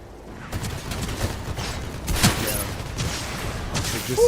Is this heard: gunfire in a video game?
yes